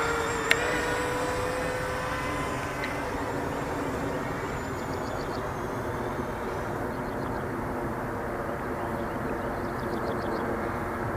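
An eFlite Convergence RC aircraft changes flight mode in the air. A steady, distant motor and propeller whine carries on throughout, with a faint tone that shifts in pitch over a constant background rumble.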